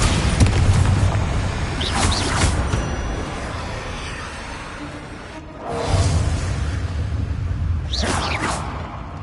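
Bombarda spell blasts in the Hogwarts Legacy game on PS5 boom repeatedly with whooshing bursts, loud and dense, one strong impact landing mid-clip amid continuous game noise.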